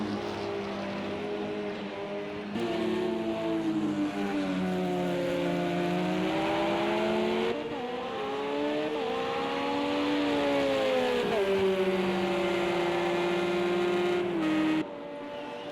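A racing car, a Porsche in a 24-hour endurance race at Silverstone in fog, drones loudly and steadily, its engine pitch rising and falling through gear changes and corners, with no voices.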